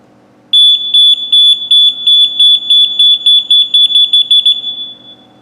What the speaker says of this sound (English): The buzzer will alarm, the status lights will blink on the fill sensor, and the buzzer will chirp every 15 seconds.